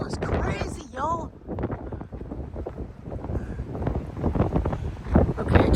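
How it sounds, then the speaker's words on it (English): Strong wind gusts of around 50 miles per hour buffet a church building in Plano, Texas, roaring and rumbling against the microphone while someone talks over it. "You can hear the wind on the church building."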